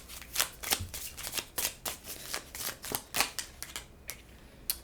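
Tarot cards riffle and slap in quick, crisp bursts, about a dozen sharp shuffling snaps in an uneven rhythm, close and clear, with no talking over them.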